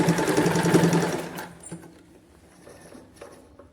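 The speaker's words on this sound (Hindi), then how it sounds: "एकदम साथ में इस स्टिच के साथ में ही हमने सिलाई लगानी है" A sewing machine stitching fabric for a puff sleeve blouse, a fast close whirring rattle for about a second and a half, then stopping into quiet handling noises.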